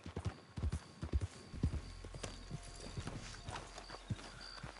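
Horse hooves clip-clop in Red Dead Online near Emerald Ranch, several loud close hoofbeats in a quick run, then lighter scattered steps over a low rumble.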